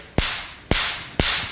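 A hammer drives a wheel bearing into a motorcycle front wheel hub with three sharp metallic strikes at an even pace, each ringing briefly before the next blow.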